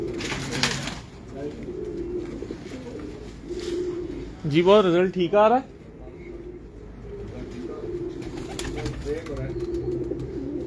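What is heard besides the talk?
pigeons cooing on a rooftop in Multan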